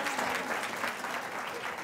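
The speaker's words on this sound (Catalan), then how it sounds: "aplaudiment per ella" Dense, steady applause from a studio audience on a Catalan television word-game show, filling the whole moment at an even level with no break.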